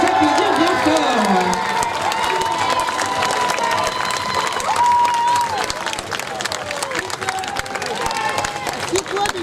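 A festival crowd applauds a costumed couple dressed as the Ice King and Queen at a Venetian-style carnival podium, loud sustained clapping mixed with cheers, shouts and children's voices throughout.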